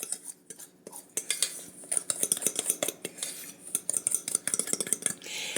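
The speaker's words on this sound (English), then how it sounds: "Now let me give this a quick stir with a fork just to incorporate it all" A fork stirs ingredients in a bowl in a keto kitchen, rapid irregular metallic clinks and scrapes against the bowl, close and continuous, without voices.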